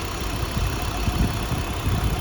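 A 1994 Audi S4 engine idles steadily with a low, even rumble and slight vibration, close and continuous throughout.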